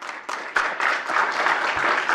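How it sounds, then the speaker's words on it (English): An audience at a city council meeting breaks into applause, a short burst of dense clapping that swells after a few scattered claps and carries on steadily. "you can give yourself a big round of applause for that"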